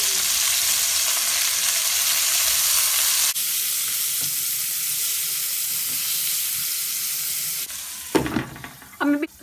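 Chicken tikka frying in a pan, a steady broad sizzle with the stirring of the pieces, fairly close and loud, easing slightly midway before a few louder scrapes and knocks near the end.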